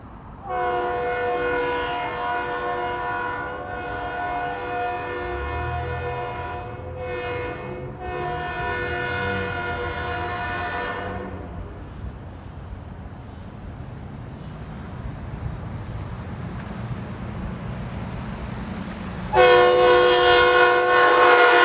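Metro-North train 1770, New York to New Canaan, races through on track 1 with a loud, sustained multi-tone horn, a long rumbling pass, then a second sharp horn blast close by.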